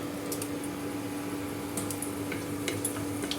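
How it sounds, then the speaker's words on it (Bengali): Black mustard seeds and a dried red chili fry in hot oil with a soft, steady sizzle broken by faint scattered pops and crackles, heard close with no talking. "এটার মধ্যে দিচ্ছি ফোড়নে কালো সর্ষে আর একটা শুকনো লঙ্কা"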